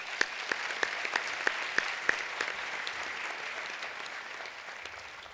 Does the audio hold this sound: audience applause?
yes